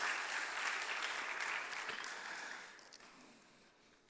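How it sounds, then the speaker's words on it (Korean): A church congregation at a youth worship service applauds in a dense, steady burst of clapping that gradually fades toward the end, with no talking over it. "이 시간 우리 함께하는 모든 청년들에게 잘 컸다고 한번 격려의 박수 할까요?"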